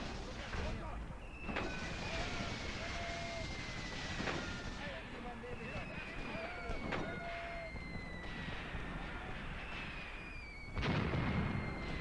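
Distant mortar and artillery fire from the World War II battlefield of Graviteam Tactics, set at Kharkov in 1942, booms and cracks scattered across a constant battle rumble, with occasional whistling tones overhead and a heavier blast near the end.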